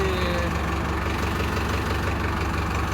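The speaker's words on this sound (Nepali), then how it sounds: "so tractor कुदाइदिँदैछ" A tractor engine runs at a steady idle, with a constant low rumble and a dense mechanical drone holding evenly throughout, close by and with no talking.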